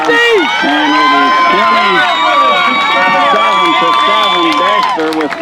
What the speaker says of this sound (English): So that excites the Dexter crowd